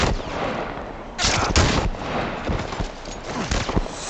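Bursts of gunfire in The Last of Us Part I, a rapid cluster of loud shots followed by scattered single reports over rumbling game ambience.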